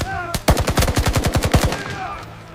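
Machine gun fire in a WWII battle reenactment of the 1943 Battle of Kursk: a fast, loud burst of about a dozen rhythmic shots, close and dominant, with a single shot just before and a fading tail after.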